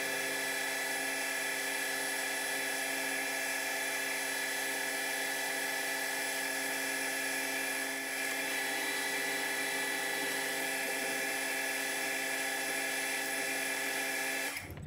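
A metal lathe in a workshop cuts relief for the tang on the end of a floating tailstock die holder, giving a steady, unbroken whine with strong even tones, running loud and constant alone until it stops abruptly at the end.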